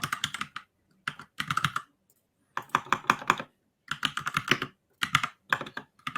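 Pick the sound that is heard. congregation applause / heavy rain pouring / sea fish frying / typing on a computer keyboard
typing on a computer keyboard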